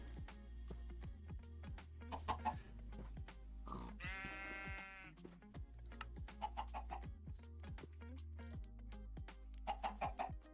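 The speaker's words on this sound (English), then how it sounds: "Chicken." Minecraft chickens in the StoneBlock 4 modpack give short clucks over steady background music, with a sheep-like bleat partway through and no talking.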